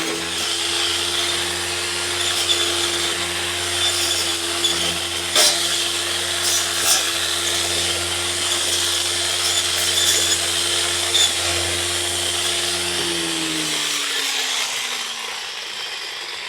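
A battery-powered string trimmer runs steadily, cutting through growth near a ground rod with a sustained motor whine and rough cutting noise, close and loud, before winding down at the end.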